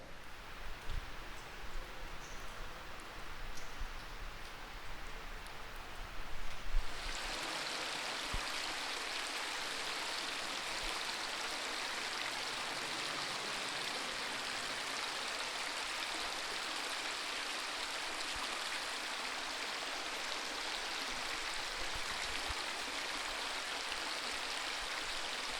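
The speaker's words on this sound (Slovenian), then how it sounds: "Tukaj imamo jamski potok" An underground stream flows through Križna jama cave in Slovenia, a steady, even rush of water that grows fuller and brighter after a few seconds and holds constant, with no talk.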